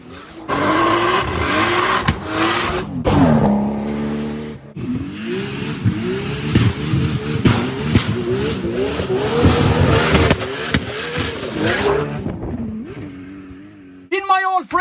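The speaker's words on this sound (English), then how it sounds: "That's an RB30 straight out of the Japanese hills of hell. Sound off it." An RB30-engined drift car revs hard and loud, its pitch climbing and falling through repeated throttle blips. The engine briefly drops off midway, and tires squeal sharply near the end.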